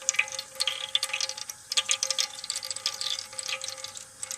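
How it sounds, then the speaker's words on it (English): Water trickling and dripping through a refrigerator drain hole after ice was thawed, a busy close gurgle of drips over a low steady hum, no talking. "now we hear the noise of water coming down the drain hole the way it's supposed to"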